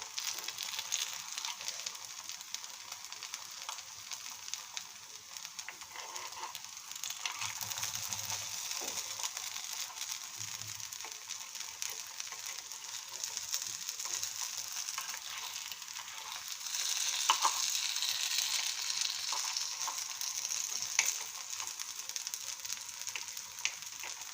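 Oats and green gram appe fry in an appe pan with a quiet continuous hiss, marked by a few soft low clinks as the dumplings are turned over, the sizzle swelling slightly toward the end.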